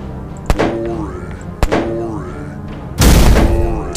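Enemies explode in the video game Duty Calls, a shooter parody: sharp gunshot-like cracks followed by ringing, tonal whooshes, then a louder, bursting blast near the end, all loud and close.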